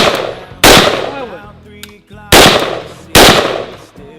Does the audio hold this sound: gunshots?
yes